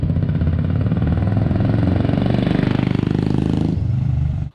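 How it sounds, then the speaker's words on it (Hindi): Royal Enfield motorcycle fitted with a Vardenchi retro exhaust, running close by with a deep, bassy thumping beat that rises briefly in revs, then settles back to a steady lumpy idle near the end. "एग्जॉस्ट जो इसका साउंड करता है एक बेसी थंप मिलता है आपको, मतलब डुक डुक वाला जो साउंड रहता है"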